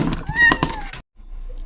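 A kitten being put into a box gives a few short, high meows in quick succession with a light thump, close and loud, then a brief silence and faint room noise.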